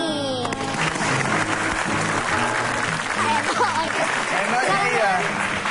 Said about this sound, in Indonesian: Langsung aja tepuk tangan buat Eno Bening.